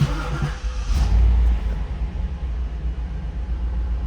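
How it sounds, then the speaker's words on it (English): A 1995 Pontiac Firebird Formula's fuel-injected engine turns over on a cold start and catches, settling into a steady low rumbling idle close by, with no voices. "All right, so we got a nice cold start."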